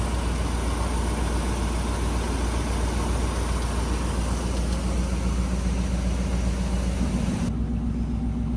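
A 1948 Cadillac engine idles quietly in a smooth, unbroken low rumble close by. A soft steady tone joins near the end.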